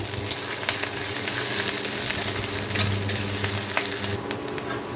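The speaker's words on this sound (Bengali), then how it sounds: "দুটো কাঁচা লঙ্কা কুচি এখন এইগুলোকে হালকা একটু ফ্রাই করে নেব" Close, steady frying sizzle of chopped ginger and green chillies in a pan with light scraping of a spatula stirring throughout, no talking.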